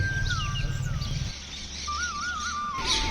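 Many birds chirp and call together around a bird lover's home, bright tweets and a few rising whistles over a steady low rumble that drops away partway through, with no talking.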